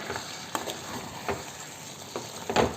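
Beef pepper masala with koorka being stirred in a frying pan, a steady low sizzle broken by several scraping strokes of the spoon, the loudest near the end; no one speaks.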